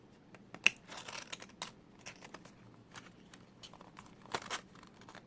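Packaging for a PlayStation Link USB adapter is handled during an unboxing, giving faint, scattered crinkles, taps and tearing clicks in a quiet room, with one sharper snap near the start.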